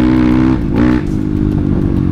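A bored-up Kawasaki KLX 200cc supermoto bike revs loudly up close on a quiet morning ride, its engine note dipping briefly before climbing again into a strong, steady drone.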